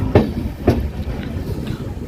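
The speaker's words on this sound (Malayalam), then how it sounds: "ഇപ്പോൾ ട്രെയിൻ അരിസിക്കര ജംഗ്ഷൻ റെയിൽവേ സ്റ്റേഷനിലേക്ക് എത്തിക്കൊണ്ടിരിക്കുകയാണ്" A passenger train from Vasco da Gama rolls into Arsikere Junction railway station, its wheels clacking over rail joints in regular beats above a steady rumble, close and fairly loud.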